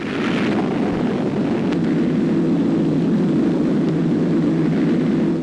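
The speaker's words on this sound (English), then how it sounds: "The death-dealing planes of the task force return, some of them carrying the scars of battle." WWII warplanes return from action over Iwo Jima in 1945, a dense, continuous roar of aircraft engines that drones steadily and loudly throughout, with no voices.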